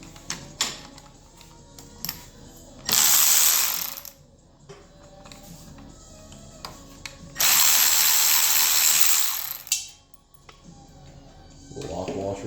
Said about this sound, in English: I got these battery powered ratchets and I almost used a manual ratchet.